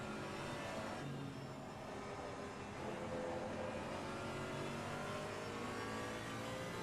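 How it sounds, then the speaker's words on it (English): Race car engines in the Assetto Corsa Competizione video game at the Hungaroring, a continuous blended engine drone with rising and falling revs, steady and fairly quiet, with no talk. "Hearing the curbs through the wheels, hearing those engines as well. Just the engine noises are glorious in this."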